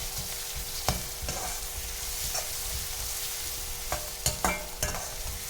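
Oil sizzling steadily as brinjal is sautéed for Tamil ennai kathirikkai kuzhambu, with a spoon scraping and stirring the pan in several sharp clacks, the sharpest ones near the end.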